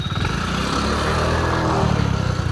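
A motorcycle engine running close by as a learner rider opens the throttle: a loud, steady, buzzing drone that rises slightly in pitch, with no pauses.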